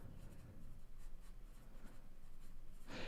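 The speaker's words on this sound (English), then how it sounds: "Let me write that down." A pen scratches a quick note on paper, soft close strokes in short bursts over quiet room tone, ending in a brief brighter scrape.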